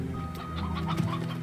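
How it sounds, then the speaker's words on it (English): Hens cluck in the Slime Rancher video game, a few short, soft clucks close together, with no speech. "Hens!"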